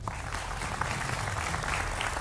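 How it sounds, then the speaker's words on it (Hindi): Studio audience at a televised political debate applauding, a dense continuous wash of clapping that stays loud and even from start to finish. "आपके लिए जोरदार तालियां"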